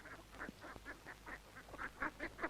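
A flock of ducks quacks in a quick, rhythmic run of about ten calls, faint and somewhat distant, with no voices over them.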